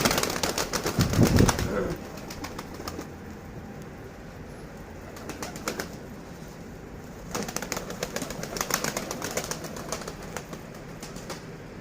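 Pigeons take off from a rooftop with a loud burst of flapping wings, followed by scattered fainter wingbeats and occasional cooing against steady outdoor background noise.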